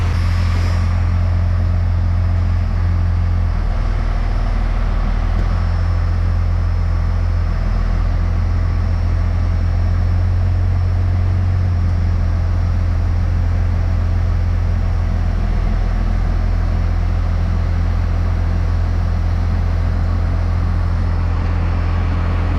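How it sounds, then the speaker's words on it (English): A first-generation Dodge truck rolls along in overdrive on cruise control, its engine and road drone a steady, loud, low rumble filling the cab without a break. "my foot's not on the gas, so this thing in overdrive with no pressure on the tires wants to run at 30 miles an hour"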